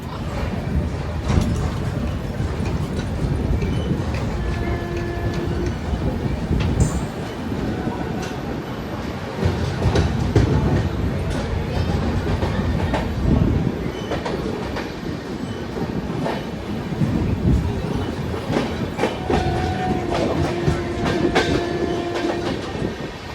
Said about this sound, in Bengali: আমাদের ট্রেন রামপুরহাট স্টেশন থেকে সবে ছাড়লো